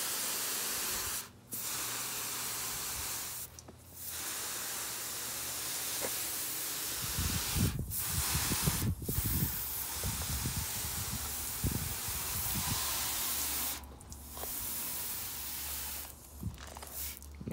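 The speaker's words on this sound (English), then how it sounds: "I'll just go ahead and just do a little light rinse on the truck" Steady broadband hiss of a water spray rinsing a 1995 Toyota 4Runner, running continuously with a few short pauses and some splashing thuds in the middle.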